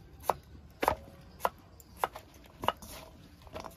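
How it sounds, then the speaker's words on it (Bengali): Knife chopping sweet potato in a Bengali home kitchen, six or seven crisp chops at an uneven pace, close and fairly quiet, with no talk. "রাঙা আলুটাও কাটা হয়ে গেছে।"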